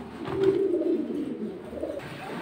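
Pigeons at a pigeon market give soft, low cooing calls, a few rolling coos close by over quiet background noise.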